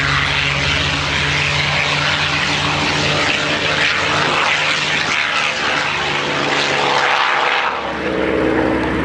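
A Rolls-Royce-designed P-51 Mustang flying at an airshow, its propeller engine giving a loud, steady, close roar that holds throughout and shifts slightly in tone near the end.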